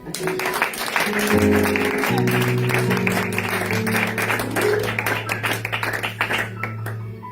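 A church congregation claps throughout, with sustained organ or keyboard chords and some voices mixed in at fairly high volume.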